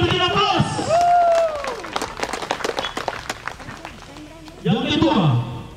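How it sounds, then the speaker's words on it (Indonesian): Audience clapping at a church anniversary ceremony of GKI in Tanah Papua, Sorong Selatan, steady applause under a loud announcer's voice, with a renewed burst of clapping near the end. "Mari kita beri aplaus."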